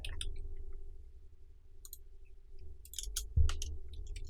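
Keys on a computer keyboard are tapped in short scattered clicks, a few quick strokes clustered near the end, heard close over a low steady room hum.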